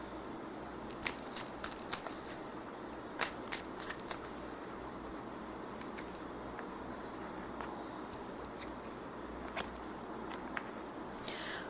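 Tarot cards are shuffled and drawn with soft, continuous riffling and scattered crisp flicks and taps, close by and fairly quiet.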